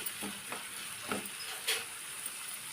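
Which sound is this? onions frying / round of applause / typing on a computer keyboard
onions frying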